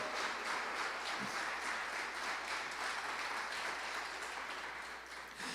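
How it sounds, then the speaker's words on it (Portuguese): Congregation in a church applauding for Jesus, a dense, sustained wash of many hands clapping that stays steady throughout, then fades slightly near the end. "Bate palmas para Jesus"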